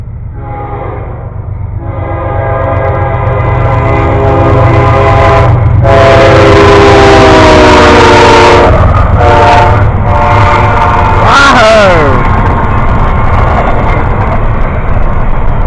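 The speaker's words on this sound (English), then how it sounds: "the very, very short intermodal train" A short intermodal freight train passes close by, a loud steady rumble of wheels and cars with several long, blaring horn blasts partway through, and no voices.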